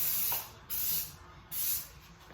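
Spray paint hisses onto truck running boards in a garage in three short bursts, each a close, airy spray with brief quiet gaps between them.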